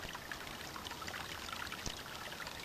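Spring water spills and splashes onto an old half shell of a quarter beer keg, a soft continuous trickling pour with small drips, faint and close with no voices.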